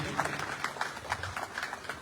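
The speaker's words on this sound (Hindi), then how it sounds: "तालियों से स्वागत होनी चाहिए।" Applause from an audience at a formal ceremony, a crowd clapping in quick, uneven bursts that pulse steadily for about two seconds, moderately close and without talk over it.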